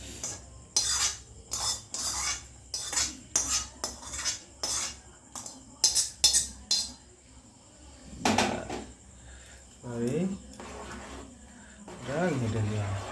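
Semai being stirred in a saucepan: a burst of rapid metallic scraping and clinking of a spoon against the pan, followed by quieter stirring with occasional speech.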